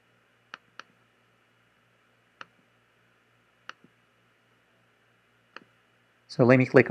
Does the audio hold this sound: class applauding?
no